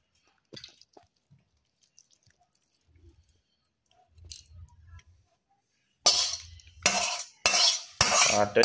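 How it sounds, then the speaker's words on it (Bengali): Cooked bhola fish with onions is tipped from a pan onto a plate: a few faint clinks and soft wet sounds, then loud close scraping bursts of the utensil against the pan in the last few seconds. "মাছটাকে এবারে আমি ঢেলে নিচ্ছি।"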